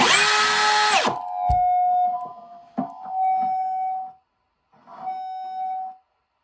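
Electric guitar amplifier feedback with a Psycho Knob installed: a loud buzzing tone cuts off, a sharp thump follows, then a sustained, piercing whine swells twice, fading out between bursts.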